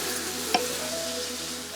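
Chopped onions softening in a pan, with a low steady sizzle heard close and one brief clink of a utensil as they are stirred, and no talking.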